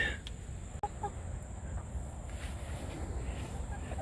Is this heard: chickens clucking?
yes